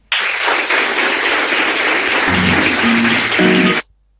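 Studio audience applause on Alejandro Dolina's live radio show, a dense, loud, steady wash of clapping that holds for nearly four seconds, with faint tonal sounds entering near the end before it cuts off abruptly.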